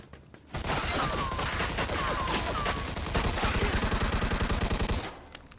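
Sustained automatic gunfire from the video game Mafia II rattles loudly and continuously for about five seconds, rapid shots blending into a dense fusillade before cutting off abruptly.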